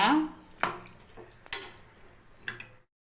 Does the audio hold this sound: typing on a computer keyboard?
no